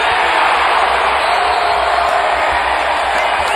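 A basketball arena crowd roars as Memphis takes the lead against Portland, a steady, broad wash of cheering and noise that holds at an even level throughout.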